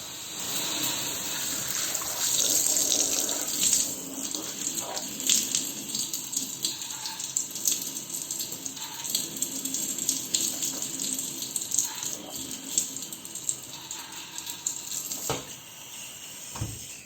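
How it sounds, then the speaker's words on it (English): Water runs from a garden faucet through an attached hose, a steady rushing, splashing flow that swells and eases slightly throughout, fairly close and with no talking. "I can adjust the flow of water, either put it off"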